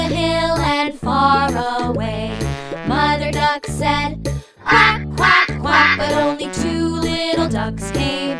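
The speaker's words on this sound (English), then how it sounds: "Mother duck said, quack, quack, quack" Cartoon duck quacks in an animated nursery rhyme about little ducks going swimming, a run of rhythmic, close, loud quacks set over bright children's music.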